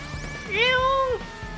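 Robot cat companion 808 from a rhythm video game lets out a single bright rising-and-falling meow, clear and close over a low steady backing beat.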